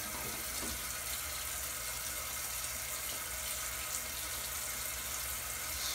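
Steady tap water runs continuously into a sink while a straight razor is rinsed after a shave, a close, even hiss with no pauses and no talking.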